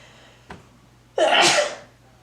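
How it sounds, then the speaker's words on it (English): A single loud, sharp sneeze bursts out after a faint click, then fades into quiet room hum. "I'm gonna sneeze, excuse me."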